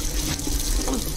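Water pours and splashes over a drowning character in the video game Call of Duty Modern Warfare, a loud, continuous gushing stream like a running tap, with a few gurgling bursts.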